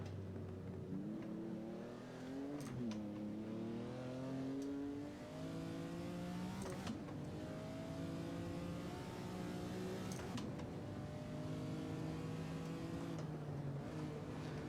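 A 1970s Trans Am race car in a racing game at Sonoma Raceway holds a loud, continuous engine drone. It rises and falls through repeated upshifts and throttle lifts across the whole stretch, with no talk.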